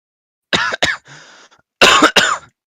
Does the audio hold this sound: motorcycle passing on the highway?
no